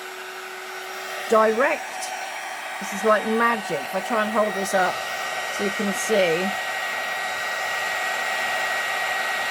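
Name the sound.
heat gun melting clear embossing powder on card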